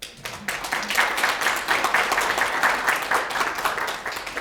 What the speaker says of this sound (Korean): 보통 딴 데 가면 이 정도 되면 박수가 나옵니다.